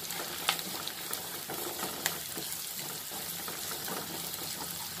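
Soya chunks in masala sautéing in a pan for a soya chunks roast, giving a steady, fairly quiet sizzle with a few soft scrape or stir clicks. No voices.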